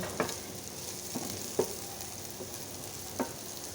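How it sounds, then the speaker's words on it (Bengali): A potato and bitter gourd vegetarian curry is sautéed in a pan: a faint, even sizzle with a few soft spatula taps at irregular intervals. "এদিকে তরকারিটা কিছুটা সময় এভাবে কষিয়ে নেব"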